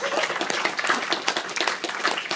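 Hands clap in a quick, uneven run of sharp, close smacks, several people or one person clapping steadily through the whole stretch, fairly loud with no talk over it.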